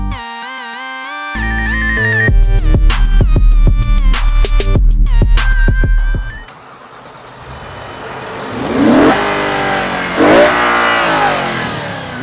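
An Audi RS4 with a completely stock exhaust and reported engine problems revs loudly in two rising surges in the second half, after a stretch of steady tonal sound with sharp pulses.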